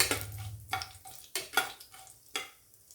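Dried red chillies frying in a pan for country chicken soup, with a series of short stirring scrapes and soft crackling sizzle bursts, close and fairly quiet.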